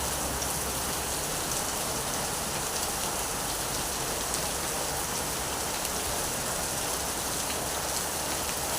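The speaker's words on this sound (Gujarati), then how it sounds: "ફૂલ ચાલુ થઈ ગયો હતો વરસાદ" Heavy rain pours down in an even, unbroken hiss of countless drops striking surfaces, constant and enveloping for the whole stretch, with no voices.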